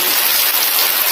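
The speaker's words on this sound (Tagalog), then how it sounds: "Malakas na ulan na nangyayari at nagaganap ngayon dito sa Palau." Heavy rain pours down in Palau, a dense, loud, unbroken hiss of drops striking surfaces with no voices.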